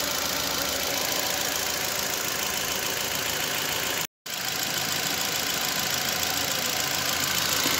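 A Ford EcoSport engine under general overhaul idles with its auxiliary fan running, producing a loud, steady hum and whir that cuts out for a split second midway, then resumes unchanged.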